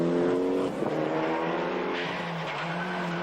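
A Mitsubishi rally car on the 1995 Monte Carlo Rally, driven hard by Finnish driver Mäkinen, roars close by with a steady high engine drone, shifting pitch as it brakes and accelerates, with a brief tyre squeal.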